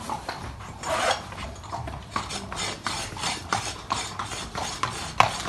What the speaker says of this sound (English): we're now just filing the cut up, polishing the clinches